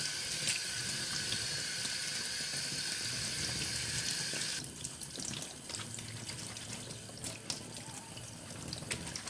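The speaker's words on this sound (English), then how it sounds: "When you finish, you can wash all the fabric to remove all the flowers, petals and leaves" Running tap water pours over fabric being rinsed by hand in a sink, washing away pounded flower petals and leaves from a natural-dye flower print; a steady close splashing stream that shifts in tone partway through.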